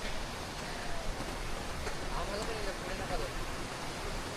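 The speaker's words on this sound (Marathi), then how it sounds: "पाऊस आता जोर धरू लागला आहे." Heavy rain falling steadily at the foot of Harihar Fort near the village of Harshewadi, a continuous dense hiss that holds the same level throughout with no breaks.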